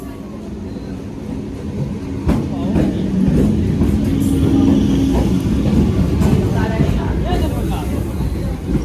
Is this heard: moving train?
yes